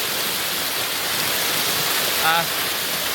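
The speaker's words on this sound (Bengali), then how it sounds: "আমি এখন একদম নৌকাটা ঝর্ণার পাশে বসে আছি" A waterfall at Na-Kata falls in Bilaichhari, Rangamati, heard from a boat right beside it: a steady, dense rushing roar with no break, plus a brief faint tonal sound near the end.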